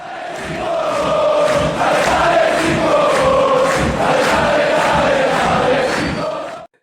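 A Brazilian football fan channel's intro vignette, a loud roaring crowd chanting in rhythmic surges, dense and continuous for several seconds before cutting off abruptly.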